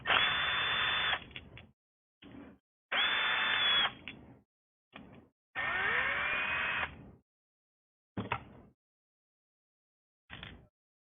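A power driver fitted with a T10 Torx bit backs out the hard drive screws of an Xbox One in several short whirring bursts, some lasting about a second and others only a brief blip, each separated by silence.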